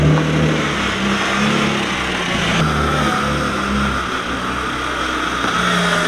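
A car fitted with a new body kit, a left-hand-drive vehicle in a foreign country, setting off: a steady mid-pitched engine drone that rises and shifts as it accelerates, heard from close by with no talking.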